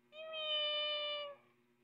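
A cat lets out a single drawn-out, clear meow, close and moderately quiet against a faint background hum, with no talking.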